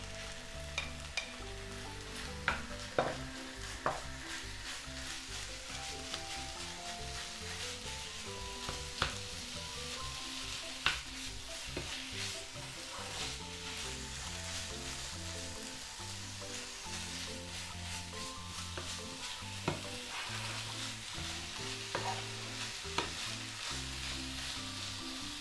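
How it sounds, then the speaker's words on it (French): Minced meat and onions fry in a pan for stuffed buns, giving a steady, faint sizzle with occasional stirring clicks and scrapes. The sound is close and continuous, with no talking. "j'ai mis mes oignons et ma viande à cuire"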